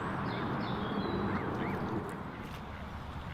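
Ducks at the water's edge quack in several short nasal calls over loud steady outdoor noise, the birds close and the calls rising and falling without any talking.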